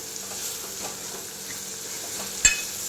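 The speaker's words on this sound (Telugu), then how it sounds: "చూడండి, మంచిగా ఆయిల్లో మన బఠానీ, పచ్చి బఠానీ మంచిగా వేగుతుంది." Fresh green peas fry in hot oil with spice powders, giving a constant soft sizzle close by, with one sharp clink of a utensil against the pan near the end.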